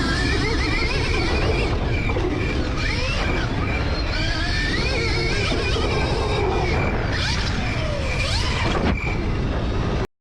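An electric dirt bike running in a sound test, giving a steady, continuous mechanical whir with rising and falling whine sweeps, close and fairly loud throughout.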